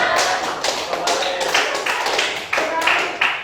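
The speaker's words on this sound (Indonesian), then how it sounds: "Tepuk tangan dulu, tepuk tangan." A group of people claps hands together in an Indonesian class or training session, giving rapid, uneven rounds of close claps with short pauses between bursts.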